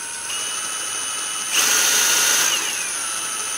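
A MEKIBOR 600 Nm cordless impact wrench spins freely. Its whine holds steady at first, then jumps up sharply in pitch and loudness partway through, stays high for about a second, and drops back, heard up close with no voices.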